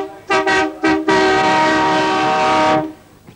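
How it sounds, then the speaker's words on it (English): A loud train horn sounds up close as a train arrives at Newcastle station in the 1980s: two short toots, then one long sustained blast that cuts off, leaving faint rumble. "the leading train broke through a banner as it swept into Newcastle station right on time"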